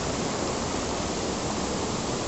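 Waterfall at Paraíso Escondido in Berriozábal, Chiapas, surrounded by trees with a cave behind it, giving a constant, even roar of falling water with no breaks and no voices.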